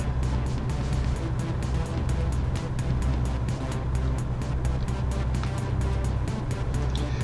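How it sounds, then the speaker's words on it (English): Truck engine in American Truck Simulator accelerating with no trailer attached on the I-15 interstate, a steady loud low rumble with rhythmic pulsing and road noise, alone without speech. "So much more acceleration when you don't have a trailer that you're pulling."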